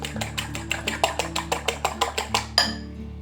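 A utensil beats eggs in a bowl for ham and courgette omelette rolls. A quick, even run of about a dozen clinking strokes against the bowl ends in one louder knock, with no voices.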